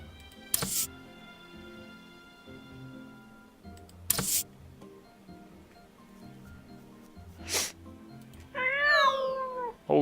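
Cat meows in the video game My Time at Portia: a short burst of meows near the end, preceded by several sharp clicks over a quiet, steady game backdrop.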